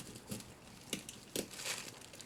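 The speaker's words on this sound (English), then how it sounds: "Saran wrap doesn't cut too well." Saran wrap packaging being cut and pulled away from a mailed parcel of boards, soft close crinkling and a few short tearing rustles, faint and without speech.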